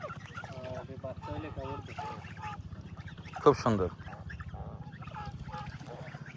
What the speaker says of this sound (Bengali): এই যে আমার সামনে হাঁসগুলো দাঁড়িয়ে রয়েছে